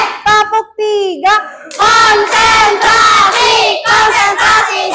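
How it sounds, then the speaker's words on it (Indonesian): A school class claps a rhythmic concentration routine on cue, bursts of hand claps and group shouts alternating with a teacher's call-outs, close and loud in a classroom. "Tepuk konsentrasi, tepuk 1, siap, tepuk 2, oke, tepuk 3"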